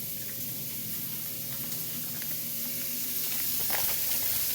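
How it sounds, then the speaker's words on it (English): Alfredo cooking in a home kitchen pan gives off a steady, close sizzle and hiss that holds evenly throughout, with a few faint crackles and no voices. "Sizzle, sizzle."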